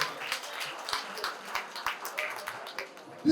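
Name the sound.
audience applause at an inauguration ceremony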